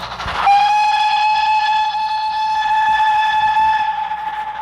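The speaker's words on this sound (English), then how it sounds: "loud the whistle" Steam locomotive whistle from a Stories of Sodor train game, a single loud, sustained tonal blast after a brief onset, holding steady for about four seconds over a low rumble of the train.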